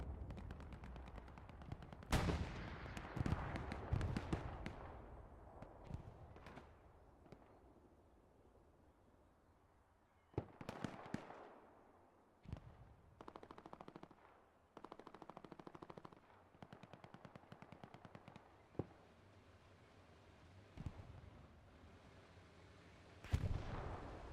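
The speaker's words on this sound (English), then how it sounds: "The strafing run from the commander" A commander's strafing run in Hell Let Loose, with heavy machine-gun bursts and booming artillery-like impacts ripping across the scene in loud, irregular volleys, then sharp scattered gunshots and further bursts separated by quieter gaps.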